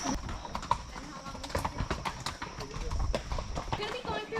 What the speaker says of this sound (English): We're going to be going through our wild horses.